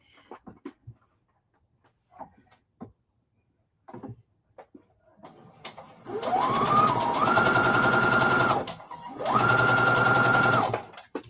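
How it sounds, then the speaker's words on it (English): A sewing machine stitches quilt pieces in two sustained, close whirring runs broken by a short pause, after scattered light clicks and handling sounds at the start. "I'll just sew the next one on and then keep it moving."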